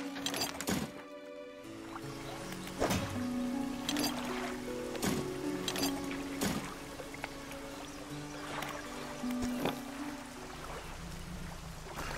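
A boat in the fishing video game Dredge moves steadily across open water, with a continuous wash and rumble that runs under layered game music with recurring soft tonal hits.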